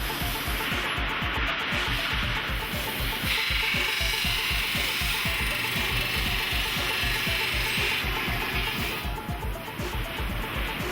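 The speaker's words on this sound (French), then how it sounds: "les tubes sont regroupés en nappes pour être mis à longueur par des scies à chaud" Hot saws cutting bundled steel tubes to length in a tube mill, a continuous loud mechanical whine and grinding with dense rapid rattling, steady throughout under a faint narrating voice.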